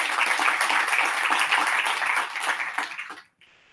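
An audience applauds after a talk at an open source firmware conference, with loud, close, dense clapping that eases off and stops abruptly near the end.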